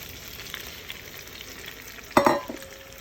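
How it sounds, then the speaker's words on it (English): Tomatoes fry in a pan with a low, steady sizzle, broken near the end by a sharp clattering stir or scrape before the frying settles again; no talking is heard. "so now I'm going to add my tomatoes, and I'll have also put in salt and pepper."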